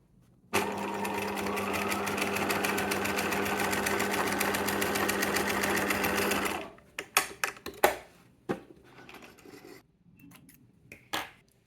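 A sewing machine quilting vintage pouches whirs in a fast, steady run for about six seconds, then stops, followed by a few scattered handling clicks and knocks. The sound is close and there is no voice.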